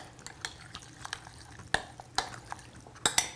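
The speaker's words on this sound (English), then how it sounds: "we'll stir our beef one more time" Beef and butter are stirred in a pan with quiet, irregular clinks and scrapes of utensil on metal, a soft sizzle underneath, close by and with no talk.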